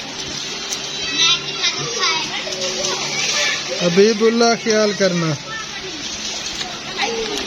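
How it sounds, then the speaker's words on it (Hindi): Rain falls steadily outdoors while children play and shout nearby, their excited voices rising over the continuous patter; an adult voice speaks briefly. "बारिश जो है ना ज़ोर शोर से बरस रही थी। पहले से कुछ कम हो गई है लेकिन अभी भी बरस रही है थोड़ी बहुत"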